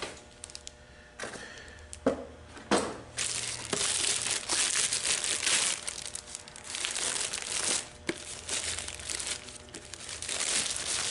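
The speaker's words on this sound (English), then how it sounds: "I'm going to put this filter in." A parts-store transmission filter with a rubber gasket is fitted during a 4R70W-family transmission rebuild. Close crinkling and rustling handling noises alternate with a few sharp clunks and pauses.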